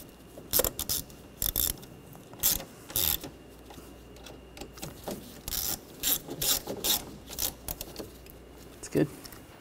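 A ratchet tightens the screws holding the coolant reservoir on a 2.0L four-cylinder Ford Escape. It gives quick, close bursts of clicking in short runs with brief pauses between them, spread across the whole stretch.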